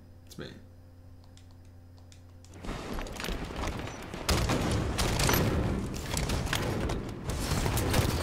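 A grenade goes off in Warzone gameplay: a loud burst erupts after a quiet stretch, followed by sustained noisy rumble and crackling debris, with players talking over it.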